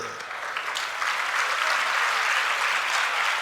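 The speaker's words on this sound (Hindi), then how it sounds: "तालियां सही बैठी" Steady applause from an audience at a Jain religious discourse, building slightly and holding at a full, continuous clapping level throughout.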